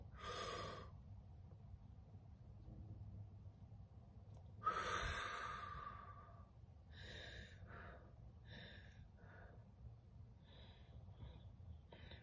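Deep breathing in a home setting, close to the microphone: a long airy breath, a sharp audible inhale or sigh midway, then softer rhythmic breaths fading away, with no speech.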